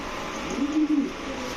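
A male racer pigeon coos in one short, soft rolling call, close by and alone against a quiet background.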